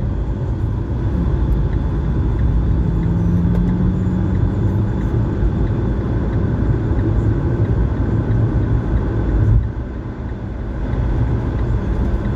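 Steady road traffic rumbles past continuously, with car engines and tire noise blending into a dense, loud roar that dips briefly near the end.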